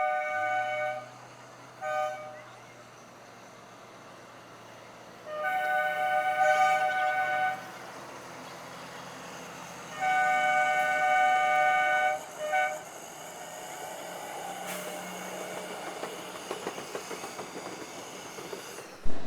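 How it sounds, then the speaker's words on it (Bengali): Shivalik Deluxe train pulling out of Kalka station on the Kalka–Shimla line, with two long sustained horn toots, a shorter blast, then the low rumble and rattle of the carriages building steadily. "আমাদের ট্রেন ছেড়ে বেরিয়েছে এই কালকা স্টেশন থেকে"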